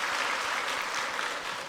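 A church congregation applauds its choir during a Sunday worship service, a steady, dense wash of clapping that fills the space evenly from start to finish without a break.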